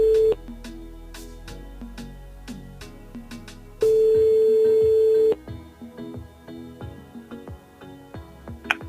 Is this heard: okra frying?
no